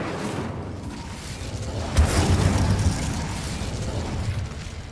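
Incendio fire spell cast in the video game Hogwarts Legacy, a sudden fiery burst and whoosh that swells and then rumbles on under ongoing game ambience.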